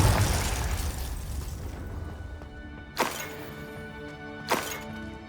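Confringo spell explosions in the video game Hogwarts Legacy: two sharp, loud blasts about a second and a half apart, each decaying quickly, following a rumbling noisy opening with no talk.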